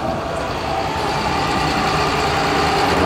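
A modified pulling tractor with a 12-litre six-cylinder diesel engine roars steadily and loudly throughout, a dense continuous engine drone with no pauses.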